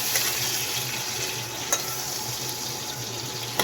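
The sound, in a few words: boiled potatoes added to Kabuli chickpeas cooking in a pan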